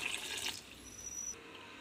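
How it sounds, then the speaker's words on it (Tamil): Water pours from a tap into a kadai pan for Burmese banana stem soup, a steady close splashing stream that fades after about half a second, leaving a faint trickle. "இதற்கு தேவையான தண்ணீர் ஊத்திக்கலாம்"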